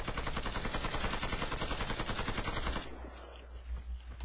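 Rapid automatic gunfire in the Warface shooter, about ten shots sprayed at a wall in one dense, loud burst lasting nearly three seconds, then cutting off to quieter room tone.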